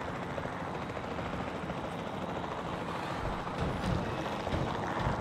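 A helicopter flies in the video game Jurassic World Evolution, giving a steady low rotor drone that runs continuously at moderate distance, quiet and without speech.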